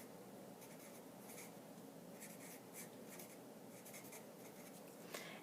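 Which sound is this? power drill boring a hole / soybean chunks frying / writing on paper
writing on paper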